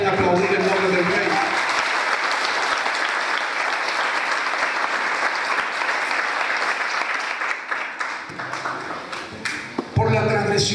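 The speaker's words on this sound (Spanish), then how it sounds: "¿Cuánto pueden aplaudir el nombre del Rey?" A church congregation at a Ministerios Hermón service breaks into sustained applause, loud and dense for several seconds before thinning out, with a voice speaking at the start and again as the clapping fades.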